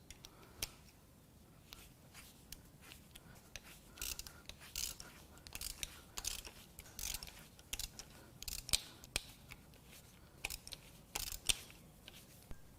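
Bolts on the cam caps of an AJ126 engine being loosened with a ratchet, giving scattered quiet clicks and short metallic ticks at close range, with no voices.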